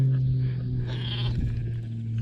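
Two pet lambs bleat once, a short wavering call close by, set against a steady low engine rumble from farm machinery near an orchard.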